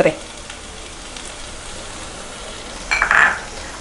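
Ground spices with Kashmiri chilli powder, coriander powder and garam masala sauté in oil over low heat for a Kerala-style chicken roast, giving a soft steady sizzle with a brief louder scrape or clink near the end.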